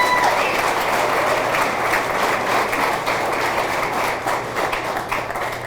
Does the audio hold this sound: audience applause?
yes